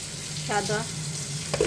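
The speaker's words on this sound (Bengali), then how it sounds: "এদিক দিয়ে আমি লাউ শাক ভাজি করছি" White bottle gourd greens fry in a pan with a steady close sizzle, and a voice briefly murmurs over it.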